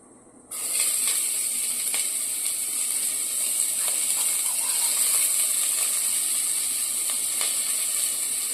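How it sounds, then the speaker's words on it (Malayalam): Chopped onion sizzles in coconut oil in a pan, a steady close hiss that starts abruptly and holds evenly throughout, with faint crackles and no talking. "പാനിൽ അല്പം വെളിച്ചെണ്ണ ഒഴിച്ചിട്ട് ആദ്യം സവാള വഴറ്റുക"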